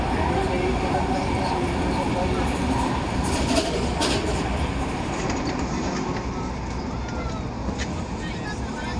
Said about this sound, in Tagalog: Pangalawang tren po namin.